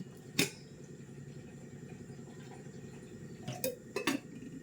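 A cooking pot set down on a kitchen stove, giving a sharp metallic clank near the start and two more clattering knocks toward the end over a low, steady kitchen background.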